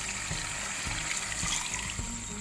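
Boiled chana dal and its cooking water pour into minced meat in a cooking pot, a steady continuous watery rush over a low background hum.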